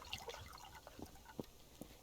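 Water being refilled in the survival game Subsistence: faint, scattered drips and small splashy plinks trickle at an irregular pace, quiet and close, with no talk over them.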